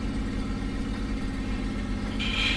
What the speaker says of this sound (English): I can actually hear your engine when it's so close.